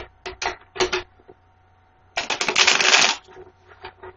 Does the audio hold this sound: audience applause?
no